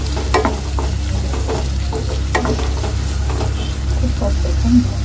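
Food sizzles and fries in a pan while it is stirred. A steady frying hiss runs throughout, with scattered scraping clicks from the stirring and no talking.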